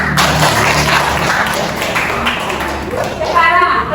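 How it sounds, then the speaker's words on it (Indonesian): Scattered clapping from a small group in a classroom or training session, with voices talking and moving around underneath. "berikan tepuk tangan untuk Dio"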